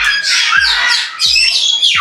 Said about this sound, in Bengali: ওইদিকে টিয়া পাখিগুলো নাকি খুবই ফ্রেন্ডলি, হাতের মধ্যে এসে বসে।